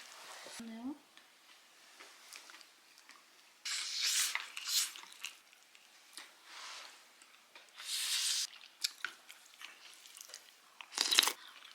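Two people eating kimchi fish-roe rice at home, with crunchy bites and chewing sounds in bursts, quiet pauses between them and brief talk around the eating.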